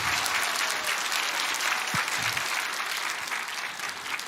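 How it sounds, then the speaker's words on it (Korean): Church congregation applauding warmly as a lawyer joins the congregation, a dense steady wash of clapping from a crowd holding level throughout without pause. "박수하겠습니다"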